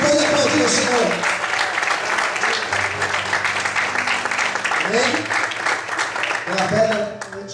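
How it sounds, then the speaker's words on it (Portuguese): A church congregation at a Portuguese-language service claps in sustained, dense applause that fills the whole stretch, with a voice and tonal sounds faintly audible beneath it. "Você pode aplaudir o Senhor."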